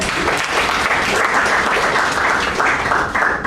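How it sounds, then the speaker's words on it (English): A crowd applauds steadily, dense clapping holding at an even loudness throughout with no voices on top. "A big round of applause for."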